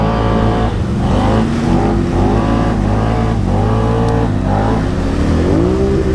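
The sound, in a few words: Can-Am Outlander 1000 ATV engine revving during a wheelie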